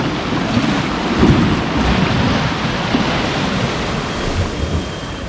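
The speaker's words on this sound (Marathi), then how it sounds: "लाटा कशा येतात बघा हळूहळू पुढे." Sea waves rolling in at Dwarka beach, a loud continuous roar of surf washing ashore with swelling surges and no talk.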